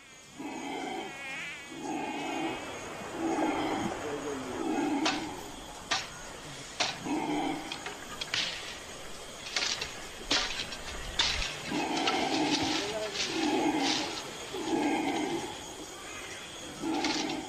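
Loud, rolling roars of howler monkeys in the Amazon in repeated bursts, with scattered sharp knocks and clatter nearby as waterproof tarps are set up.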